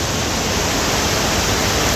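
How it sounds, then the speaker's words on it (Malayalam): Water pours from a partly opened dam shutter as a steady, dense, close rushing roar with no breaks. "കുറച്ച് ഡാമിൻ്റെ ഷട്ടർ കുറച്ച് തുറന്നിട്ടുണ്ട്. അതുകൊണ്ട് തന്നെ കുറച്ച് വെള്ളം"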